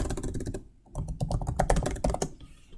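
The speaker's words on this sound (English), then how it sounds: "I can simply type something as short as first commit." Rapid keystrokes on a computer keyboard as a brief commit message is typed, a close, crisp burst of clicks, pausing once before a denser run of taps.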